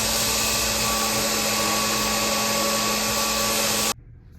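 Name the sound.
grinding a forged hammerhead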